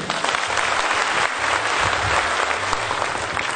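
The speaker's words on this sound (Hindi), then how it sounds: "तो एक शानदार ताली इनके लिए।" Audience applause at a Vestige marketing motivational stage event, steady and loud, filling the whole stretch as a dense wash of clapping with no pauses.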